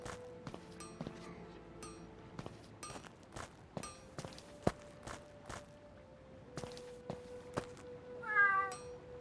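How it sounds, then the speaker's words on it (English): Cats meow in the Gedonia 2 video game, a single high, bright meow rising near the end, preceded by a steady run of soft rhythmic footsteps and thunks over faint background tones. "Ah, we cannot pet the cats."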